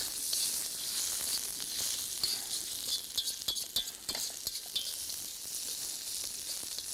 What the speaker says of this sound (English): A little bit of garlic. Some red and green chilies. And we'll give all of that